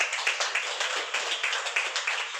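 Several people clap together in a room, a fast, steady run of close, bright hand claps carrying on without a break, with no voices over them.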